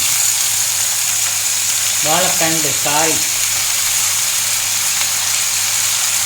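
Banana stem stir-fry with green chillies sizzling loudly and steadily in a pan, a constant hiss from start to end, with a brief voice heard over it partway through.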